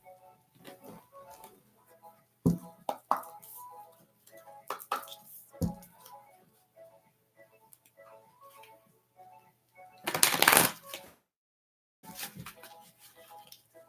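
Tarot cards are shuffled in several bursts of quick riffling and tapping, close up, with a louder flurry of flicks partway through and short pauses between.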